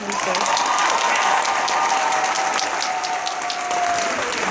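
An audience at a university commencement ceremony applauds loudly and steadily, dense clapping with a few cheers and whistles from a large crowd.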